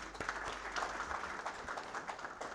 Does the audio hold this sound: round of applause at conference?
yes